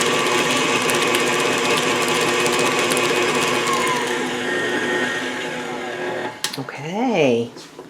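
A blender or food processor running on high, crushing graham crackers for a no-cook cheesecake crust, gives a loud, steady grinding whir for about six seconds before cutting off, followed by a brief rattle and a voice.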